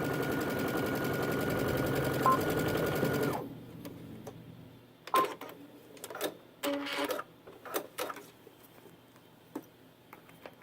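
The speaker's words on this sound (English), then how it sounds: "I'm sewing this into a tube without putting the bottom on first" A sewing machine runs steadily for about three seconds while stitching backpack side panels into a tube, then falls quiet. Scattered clicks and brief handling noises follow.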